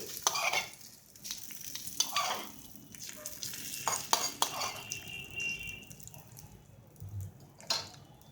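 Hot tempering (popu) tipped into coconut chutney after the stove is switched off, giving a brief crackle and sizzle with spoon stirring and light clinks of a pan and utensils, close and moderately loud, with no speech.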